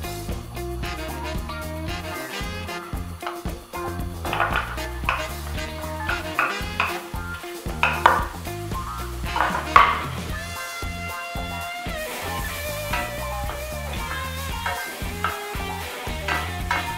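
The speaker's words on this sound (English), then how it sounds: "let's add our onions" Onions sizzle in a pan for an ancient Roman stuffed focaccine recipe, a continuous frying hiss running beneath louder tonal music, with occasional scrapes and clinks of stirring.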